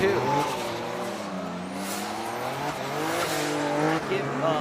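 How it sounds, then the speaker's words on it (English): Drift cars battling at a Formula Drift Japan event, engines revving hard and wavering while tires squeal through a slide, with commentary running over the noise. "Kanta going wild, nice and wide, and Uemura kind of stopped drifting around outside zone"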